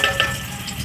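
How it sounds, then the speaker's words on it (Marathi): Ground masala paste frying in oil in a cooking pot for a prawn curry, a soft continuous sizzle with faint crackle, brief and low in level, with no talking. "हा मसाला छान आपल्याला तेल सुटेपर्यंत भाजून घ्यायचा आहे"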